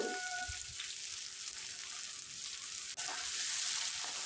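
Thinly sliced potatoes fry in hot oil with a steady, even sizzling hiss, close and continuous, plus one brief soft clatter near the end.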